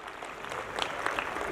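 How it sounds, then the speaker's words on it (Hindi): An audience claps steadily at a school annual function, a brief, dense burst of applause from a crowd indoors. "तो एक बार जोरदार तालियां।"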